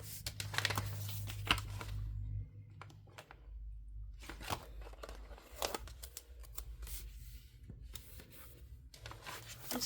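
Scissors trimming a planner sticker sheet, a series of close, crisp snips and paper rustles in irregular bursts, with no talking.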